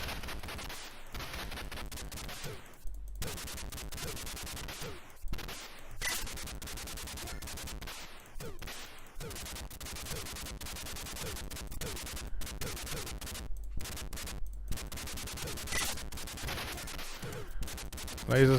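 Sustained rattling machine-gun fire from Operation Thunderbolt on the Atari ST, crude and noisy, pours out in long loud bursts with short gaps and scattered explosive cracks over several seconds.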